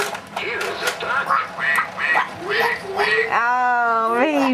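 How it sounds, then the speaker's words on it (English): A duck gives a run of repeated raspy quacks in quick succession, followed by a drawn-out whining call, with people talking in the background. "What's a duck say? Here's a duck."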